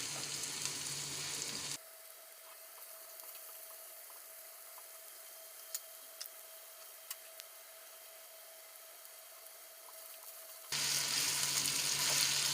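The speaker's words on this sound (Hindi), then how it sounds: "आलू और गोभी के नीचे वाली जो डंडियाँ होती हैं। मीडियम फ्लेम पे फ्राई करिएगा।" Potatoes and cauliflower stalks frying together on a medium flame for aloo gobi, a steady soft sizzle between louder bursts of frying at the start and end.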